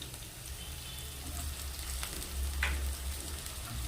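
Ginger garlic paste frying in a pan for semiya palav, a soft, steady sizzle with a low hum underneath and a brief brighter crackle partway through.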